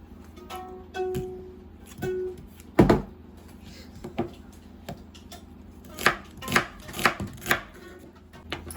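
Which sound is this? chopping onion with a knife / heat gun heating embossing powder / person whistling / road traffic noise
chopping onion with a knife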